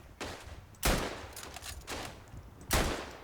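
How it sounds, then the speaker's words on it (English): Bursts of gunfire from a Lewis gun in the WWI shooter game Verdun crack out at a distance, three or four sharp volleys separated by short pauses, fairly faint overall. "whoever that is with the Lewis gun actually knows how to use a bloody Lewis gun"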